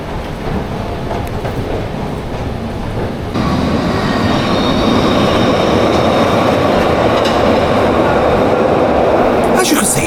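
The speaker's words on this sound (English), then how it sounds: "As you can see, trains are very frequent, about every 5 minutes." A Glasgow Subway train pulls into an underground platform, its rumble swelling sharply a few seconds in and holding loud and steady, with faint wheel squeal and clatter.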